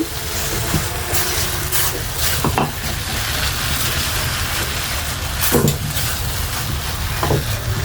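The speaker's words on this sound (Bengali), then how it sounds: "চিনি দিয়ে ভালোভাবে আবারও মিশিয়ে নিচ্ছি।" A spoon stirs sugar into a bread and carrot rasmalai mixture in a pan, giving a continuous close scraping and bubbling hiss broken by a few sharper knocks against the pan.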